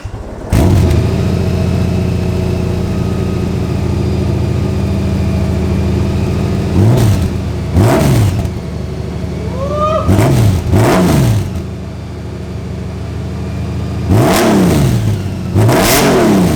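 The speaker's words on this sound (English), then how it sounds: "So let's turn the bike on. Let's hear what the bike sounds like." A Honda Gold Wing motorcycle fitted with a Shark Road exhaust idles loudly up close, then is revved in several sharp blips, some in quick pairs, with the engine pitch rising and falling between them.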